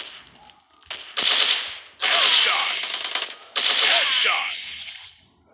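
Rapid automatic gunfire in a PUBG-style shooter game comes in three loud, dense bursts separated by short gaps, with sharp clattering shots filling the mix.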